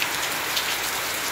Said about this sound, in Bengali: এখন হচ্ছে বৃষ্টি, আমরা বৃষ্টিতে আটকে গেছি, সবাই দাঁড়িয়ে আছি। প্রচুর বৃষ্টি হচ্ছে।